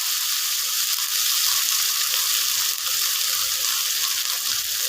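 A spice paste with chilli paste sizzles as it is sautéed in a pan for Kashmiri aloo dum, producing a continuous, fairly loud hissing fry with faint stirring and no speech.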